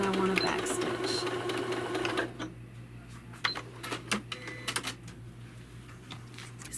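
Sewing machine backstitching through the quilted layers at the bottom of a bottle tote, a dense mechanical chatter for about two seconds, then quieter intermittent stitching clicks.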